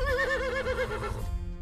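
Horse whinnying at an equestrian centre holding 40 horses, one loud, close, quavering neigh that trails off into quieter breathy sounds.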